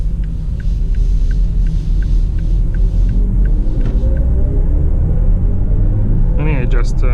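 A BMW iX3 electric car accelerating, giving a steady low rumble and road hum from inside the cabin with a faint rising whine at the end.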